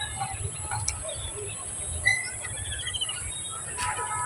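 Baya weaver birds calling at sunset, faint scattered chirps and tweets from a distance over a quiet outdoor background hum.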